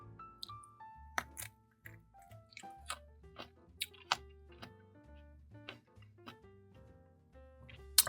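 Someone bites into and chews a crunchy Peruvian apple cactus fruit (Cereus repandus). Sharp close crunches come at irregular intervals, with a faint background hum between them and no talking.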